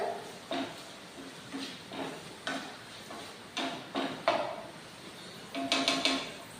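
Ivy gourd (kovakka) curry sautéing in a pan, with intermittent stirring scrapes and soft sizzling in short bursts about every half second to second, close and moderately quiet.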